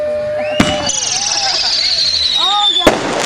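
Fireworks at the Headfest 2008 display: two sharp loud bangs with whistling, screeching rockets streaking between them, close and prominent, with people talking nearby.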